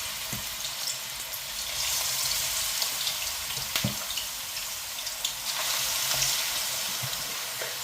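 Meat samosas frying in hot oil in a large pan, a steady broadband sizzle with scattered pops and crackles, moderately close and continuous with no talking.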